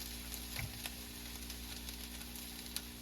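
Butter melting in a pan over low heat gives a steady, faint, even sizzle with a couple of small pops, close by and with no talking.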